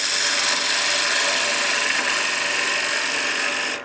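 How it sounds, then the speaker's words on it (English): A wood lathe spins a turned German smoker blank while a tool takes a peel cut to square the bottom of a tenon, producing a continuous, close, loud hissing scrape that cuts off abruptly at the end. "I'm also just going to square up the bottom of our tenon with a peel cut here."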